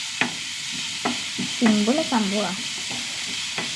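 Onions frying and being stirred in a pan, with quiet sizzling under repeated stirring clicks and scrapes, and a short stretch of speech partway through.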